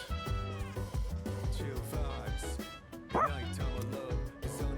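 Dog Koromaru from the video game Persona 3 Reload barks and yips happily, several quick bright barks with a whimper, set against game music.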